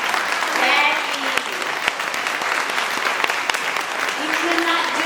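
Audience applause fills a large hall at a community organization's annual address, a steady dense clapping from many hands with scattered sharper claps, sustained without break.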